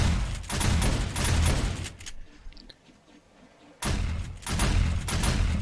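Automated turrets in 7 Days to Die blast dense bursts of gunfire, loud and continuous, then drop out for under two seconds before the rapid shooting resumes, with no voices in the clip.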